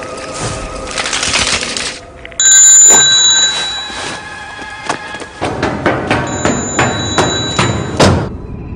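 Sharp clattering mechanical taps and bell-like dings come in irregular bursts, resembling an old telephone's ringer clanging loud and close amid rattling thumps.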